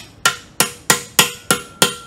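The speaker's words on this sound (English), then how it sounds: "So don't go hammering these until they bottom out." Six sharp hammer strikes driving parts into a ZF S5-42 transmission during a rebuild, evenly spaced about a third of a second apart, each a crisp metallic knock with a quick ringing decay, close and loud.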